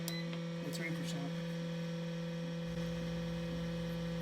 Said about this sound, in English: The motor here does make quite a bit of noise